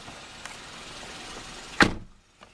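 Car door on a 2012 Kia Rio SX hatchback swung shut, a single sharp solid thud standing out over low background hum, followed by near quiet.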